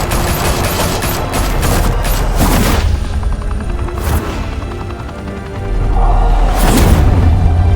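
Heavy gunfire erupts in the Batman Telltale Series game, a loud dense fusillade of rapid shots and booms rolling continuously, ending with a few sharper impacts over a low rumbling background.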